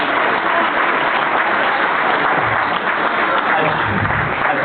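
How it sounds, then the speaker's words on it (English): Wedding guests applaud a best man's speech with dense, steady clapping that fills the room at even loudness throughout, with no breaks. "You guys keep clapping, it's going to be like 15."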